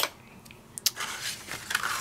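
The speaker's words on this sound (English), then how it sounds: "I was gonna say cut out these holes with this Arteza set." A craft knife from an Arteza set cutting holes in paper or card, with a few short, sharp scratchy cuts and clicks spread irregularly across a quiet background.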